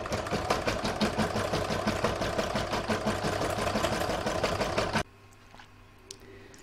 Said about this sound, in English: So I'm now going to pop that back in my machine and stitch round two.